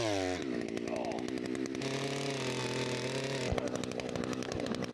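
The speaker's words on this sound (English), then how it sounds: "We can start drilling more holes. Hopefully we can drill this one without hitting any big rocks." Gas-powered auger boring fence post holes in garden ground, a loud, steady two-stroke engine drone that dips and revs as the bit bites into soil, running continuously up close with no talk.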